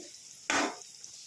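Bitter gourd pieces coated in turmeric are tossed into hot oil, giving one short, loud burst of sizzling and stirring that fades quickly into quiet frying.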